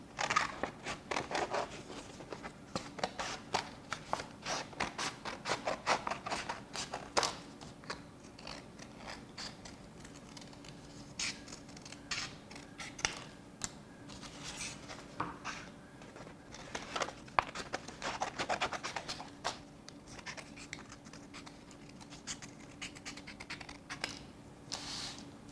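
Scissors snip through a paper plate to cut out paw shapes, giving a long run of quick, uneven crisp clicks and crunches, close up and without talking.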